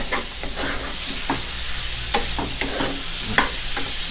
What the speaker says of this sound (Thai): ผัดให้หอมๆเลยนะครับ